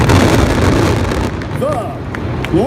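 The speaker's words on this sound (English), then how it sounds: "the largest fireworks display in all of America" Fireworks at the 2016 Nashville finale roar as a dense, loud, continuous crackle and rumble, with rising whistles near the end and a voice faintly audible underneath.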